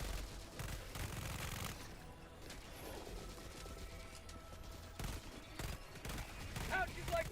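Rapid weapon fire from the Knight in a shooter video game, bursts of quick clattering shots with mechanical clicks and reload sounds amid game effects, fairly close and continuous.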